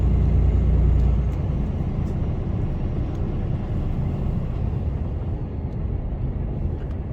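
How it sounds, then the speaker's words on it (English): A car reverses out beside a Mercedes Actros HGV on a narrow road in Littlehampton, West Sussex, heard as a steady low engine rumble that dominates throughout with no talking. "Car reversing out."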